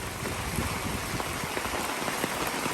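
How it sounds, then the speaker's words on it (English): Hard, steady rain pours down over a freshly graveled area, a dense continuous hiss of drops striking the ground with no pauses and no voices. "It's been raining for about, I don't know, maybe 15 minutes or so"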